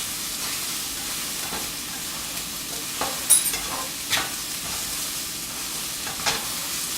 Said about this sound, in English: we'll add the red pepper in there and let it stir really good so that those onions don't stick.